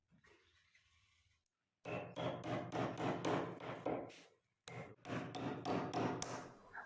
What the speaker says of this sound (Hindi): हम इसको डायरेक्ट कीली की मदद से प्रेस कर रहे हैं